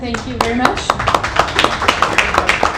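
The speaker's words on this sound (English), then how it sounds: "One more round of applause for Aaron." Audience applause for a speaker at a live talk event, a steady patter of many hands clapping close by, heard under a brief spoken thank-you.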